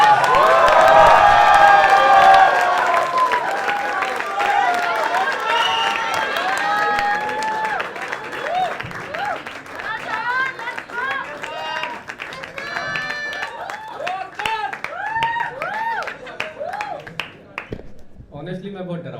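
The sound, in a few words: audience applauding and cheering as performer is called on stage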